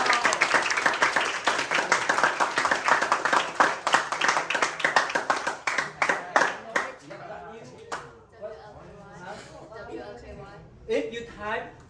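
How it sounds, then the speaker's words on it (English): A discussion audience claps for a woman being honored, a burst of lively clapping for about seven seconds that fades into scattered claps and talking voices. "Give her a big applause,"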